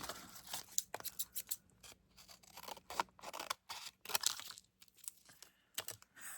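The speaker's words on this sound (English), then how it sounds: "I'm going to cut the top of this off." Repeated crisp snips of scissors cutting through packaging, in irregular bursts with short pauses, close to the microphone and with no talking.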